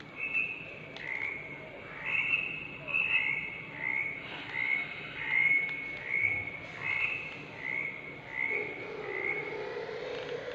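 A frog croaks repeatedly in a steady rhythm, short chirpy calls about once a second, moderately close over a soft outdoor background.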